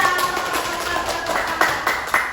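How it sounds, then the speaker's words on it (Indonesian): Classroom applause for a student group after a discussion presentation, a brief burst of many hands clapping in uneven rhythm, moderately loud and close, with no talk over it. "tepuk tangan untuk nomor 2"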